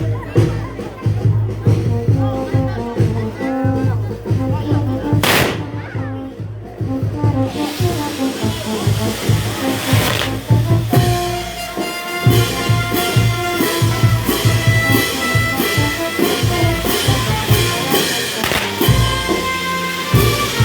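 A fireworks castle erupts at a village festival in Ancaypahua, Peru, with continuous hissing sprays, crackles and sharp pops under a cheering crowd, children's voices and a playing band.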